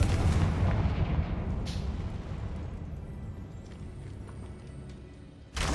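A Confringo fire spell blasts in Hogwarts Legacy on PS5, a loud, rumbling explosive burst that tails off over several seconds into a lingering roar, with a second sharp blast at the very end.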